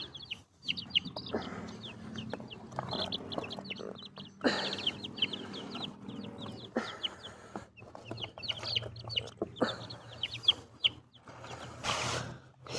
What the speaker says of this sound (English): Here's some baby chicken sounds.